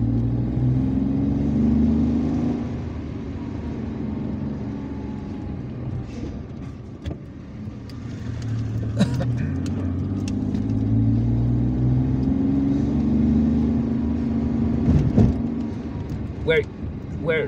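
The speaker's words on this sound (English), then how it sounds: "I'm going to drive to Madania via that part of the city." A car drives through the streets of Algiers toward El Madania, its steady mid-range engine rumble and road noise continuous throughout, with a voice talking over it.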